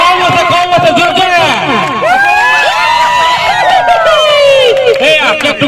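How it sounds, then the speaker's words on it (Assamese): A lively crowd at a first-time New Year cake cutting cheers, shouts and whistles loudly and continuously, with overlapping children's voices and babble close by. "আকৌ এটা হাত চাপৰি হ'ব লাগে জোৰকে এটা উকি হ'ব লাগে"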